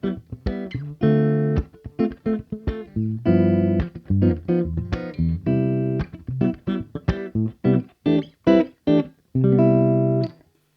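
Godin 5th Avenue archtop guitar with both P90 pickups engaged together, played alone as a sequence of strummed chords and picked notes with short gaps, clean tone with a little edge, close and fairly loud.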